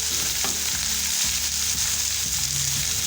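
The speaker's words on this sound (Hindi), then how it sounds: "हरी मिर्ची ऐड करेंगे। अभी इसको मिक्स कर लेंगे" Green chillies and tomatoes sizzle steadily in hot oil for an egg masala, with a few spoon scrapes and stirring knocks over the constant frying hiss.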